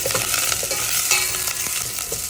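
Onion and curry leaves frying in hot oil for a tempering, giving a steady bright sizzle with a few soft stirring scrapes, close and continuous with no voices.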